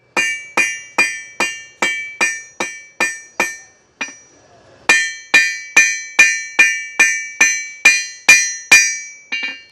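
High carbon steel for a flint striker is hammered flat on an anvil, sharp ringing blows in a steady rhythm, about twenty strikes with a short pause near the middle, close and loud with no talking.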